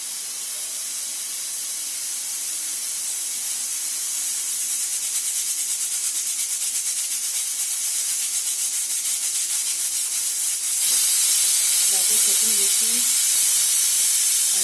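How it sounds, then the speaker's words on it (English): A pressure cooker of ghee rice, flame just switched off, lets out a steady loud hiss of escaping steam that continues unbroken and grows slightly brighter toward the end, with no voices over it. "I switch off the flame and I'll wait for the steam to go out"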